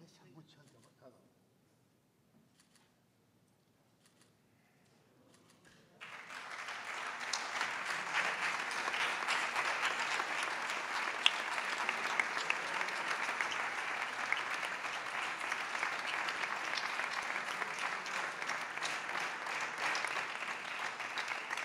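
Applause from a festival audience at the unveiling of a flamenco cante festival poster swells up suddenly after a few quiet seconds and keeps going as broad, loud, steady clapping.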